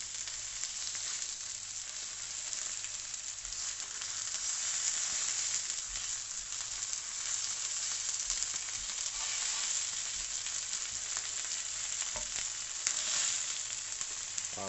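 Salt and pepper chicken pieces fry in oil in a frying pan, giving a continuous close, steady sizzle with faint crackles and occasional stirring clicks, no talking.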